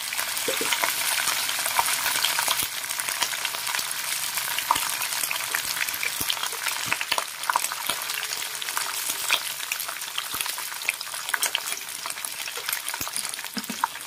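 Pork fat sizzles and renders in a hot pan with no added oil, a steady bright frying hiss broken by scraping clicks as it is stirred, close and continuous with no talk.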